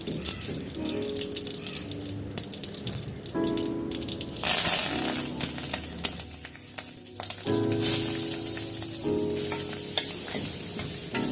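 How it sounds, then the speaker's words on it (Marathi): A tempering of curry leaves, asafoetida, turmeric and chopped onion sizzles loudly in a kadhai, its crackling rising and falling as it is stirred, with metallic rattles and occasional voices in the background. "एका कढईत फोडणी करायची। फोडणीत थोडासा कढीपत्ता, हिंग, हळद आणि कांदा चिरून घालायचा।"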